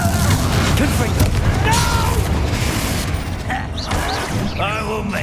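A Confringo fire spell blast in Hogwarts Legacy, a loud, dense burst of roaring impact noise with rumbling booms and mechanical clatter, heard under a voice speaking.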